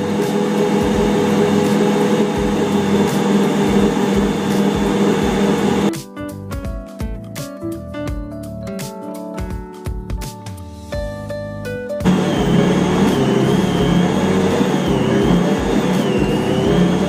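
An electric mixer beats chocolate hot cross bun dough with milk in a covered bowl, giving a loud, steady motor whir that breaks midway into a quieter, clattering stretch before the full drone returns.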